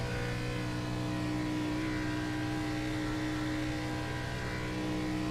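A NASCAR stock car in the iRacing simulator at Michigan runs flat out, its engine giving a steady, loud, unbroken drone for the whole clip with no pause in the throttle.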